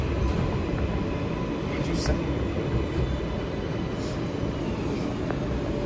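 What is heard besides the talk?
NYC subway R143 Z train at Fulton Street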